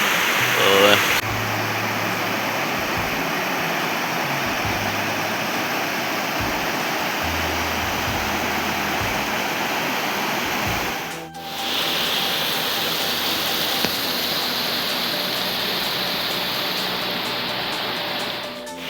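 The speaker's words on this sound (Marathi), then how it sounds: "पाण्याचा आवाज बघा पाणी काल पाऊस झाला पाणी वाढलं आहे थोडं" Rain-swollen river in a Konkan village near Chiplun, rushing steadily in a loud, continuous roar with a brief dip midway, while low voices occasionally mingle beneath the flow.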